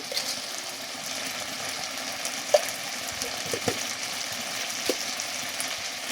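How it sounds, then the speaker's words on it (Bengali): A spice masala with turmeric and salt sautés in oil for a chicken and potato curry, with a steady sizzle and occasional stirring clicks and scrapes, close and with no talk. "মশলাটাকে ভালোভাবে কষাতে হবে"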